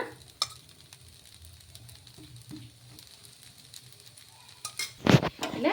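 Pumpkin dosa batter cooking on a pan with oil added gives a quiet low sizzle, dotted with light metal clinks, then a loud burst of spitting sizzle and utensil clatter near the end.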